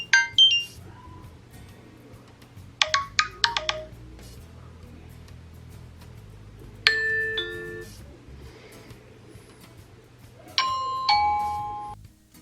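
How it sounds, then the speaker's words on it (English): An Arlo Chime doorbell chime plays several short electronic tone melodies in separate bursts, bright and clear, with quiet pauses between them. "let's check and test out the features of the Arlo Chime. You have to go to the device settings on the doorbell to change the tone or melody"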